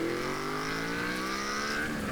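A steady, throaty exhaust note from a 1985 Yamaha VMAX motorcycle rising slightly in pitch, loud and close, with no talking.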